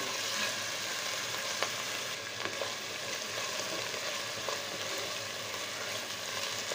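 Garlic and spices fry steadily in a pan for a chicken and water taro curry, a constant close sizzling hiss with occasional stirring clicks, no voices.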